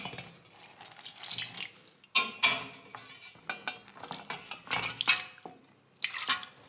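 Water is poured over butter-making utensils and a churn to scald them, giving intermittent splashes and drips with light clinks of equipment, fairly close and quiet, with no talk.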